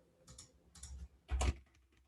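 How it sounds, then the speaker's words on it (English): A few short bursts of key clicks on a computer keyboard, quiet and close, with a louder flurry near the end and no talking. "actually I'll just type the link in chat"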